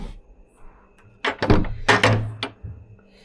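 A door swollen from monsoon rain is pushed and tapped shut and then locked, a series of close wooden thunks and knocks followed by the metallic click of a lock, with a quiet voice briefly in the background.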